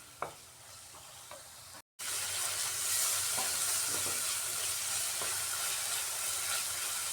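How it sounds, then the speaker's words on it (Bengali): Spice masala being stir-fried in oil for a vegetarian potol paneer dish gives a steady close sizzle, with spatula scrapes and stirring strokes throughout and a brief gap near the start. "মশলা কষানোটা খুব সুন্দর হচ্ছে"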